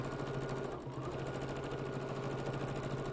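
BERNINA sewing machine stitching steadily with a double needle while quilting, a fast, even mechanical chatter running loud and close for the whole stretch with no talk.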